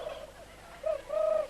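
Turkey gobbling from the film Blood Freak: a faint warbling call at the start, then two louder gobbling bursts near the end, heard alone.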